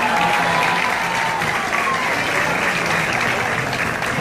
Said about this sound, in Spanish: pido un gran aplauso para ella